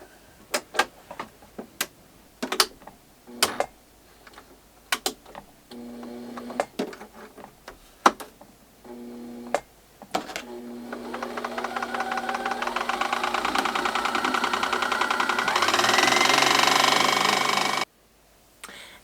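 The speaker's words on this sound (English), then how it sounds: "Now I am going to go ahead and fill up one full bobbin" A Brother sewing machine winds a bobbin: a few clicks and knocks first, then a motor whine that builds and rises in pitch as the bobbin fills, running steadily before stopping abruptly, with no talking.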